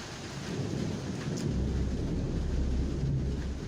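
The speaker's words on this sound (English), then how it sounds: "Ah, yes, the sound of thunder." Thunder rolls over a home at night as a deep, steady rumble beneath continuous rain, heard from a neighbourhood security camera with no voices.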